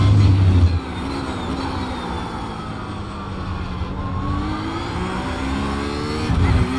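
Porsche race car engine in an iRacing VRS Sprint sim race, droning steadily with rising and falling harmonic pitch sweeps as it accelerates and shifts, loud and continuous throughout with no talking.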